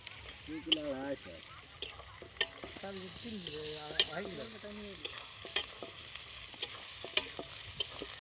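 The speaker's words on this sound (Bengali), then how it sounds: "আদা রসুন পেঁয়াজ দিয়ে এবার ভালো করে ফ্রাই করব" Goat meat frying with ginger, garlic and onion for a home-style khashir mangsho gives a loud, continuous sizzle, broken by repeated scraping stirs of a utensil in the pot, while a voice speaks briefly over it.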